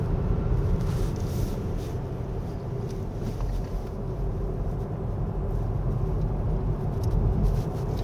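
A 2024 Volvo C40 Recharge Twin electric coupe-SUV takes a corner on a winding road, heard as a steady, loud cabin rumble of road and tyre noise with no engine note and no talking.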